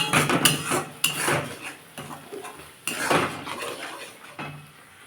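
Boiled cauliflower with salt being sautéed in a pan, a spoon clanking and scraping against the metal in several sharp bursts, loud and near, with no voices.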